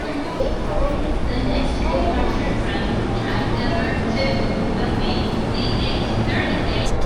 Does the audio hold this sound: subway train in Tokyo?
yes